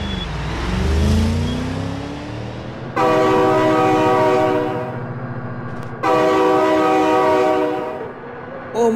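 A loud video game train horn blares twice in long sustained blasts over rumbling engine and rail noise, in BeamNG.drive.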